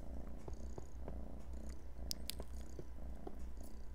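A house cat purrs close by in a steady low rumble with faint rhythmic pulses, alone and unbroken over a few seconds.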